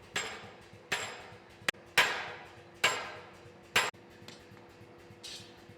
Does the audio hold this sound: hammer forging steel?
yes